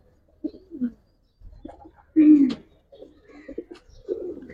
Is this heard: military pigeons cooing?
yes